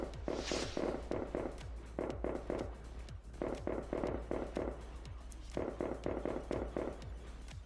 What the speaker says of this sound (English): Fireworks. Who doesn't love fireworks?